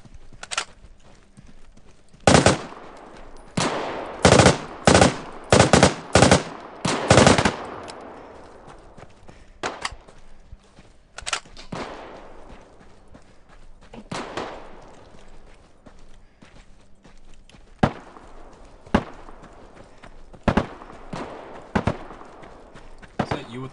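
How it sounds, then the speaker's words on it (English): FAMAS rifle fire in the video game Deadside: sharp, loud bursts of rapid shots clustered early, then scattered single cracks and shorter volleys spread across the rest. "That FAMAS sounds mean as fuck, bro."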